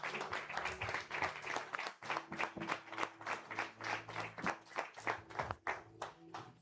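Church congregation at a Spanish-language prophetic service claps for the Father in a rhythmic, pulsing beat of repeated hand claps, moderately loud, with a low hum underneath and no speech.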